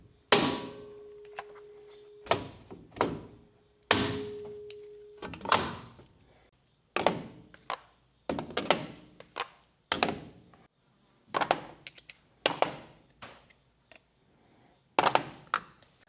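Metal sockets being set into plastic socket holders on a workshop tool wall, a series of sharp clicks and clacks, some with ringing metallic tones, arriving irregularly at close range.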